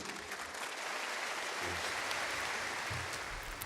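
Audience applause for a prime minister addressing a gathering of business leaders: a soft, continuous wash of many hands clapping, heard from some distance at a low, even level.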